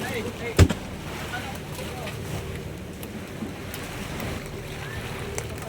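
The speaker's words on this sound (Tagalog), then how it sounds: "Ngayon po ay malalaki ng alon. Malakas ng hangin." Big sea waves and strong wind roll around a fishing boat at sea in a continuous wash and rumble, with a brief knock early on and faint voices in the background.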